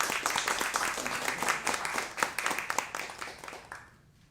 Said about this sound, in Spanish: Recibamos con fuertes aplausos a ambos